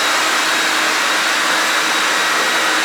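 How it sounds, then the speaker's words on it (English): A vacuum draws up silica dust behind a floor grinder on a garage concrete floor being profiled for epoxy, a loud, steady, broadband whoosh that holds unchanged throughout with no talk. "now we're just going behind it and vacuuming"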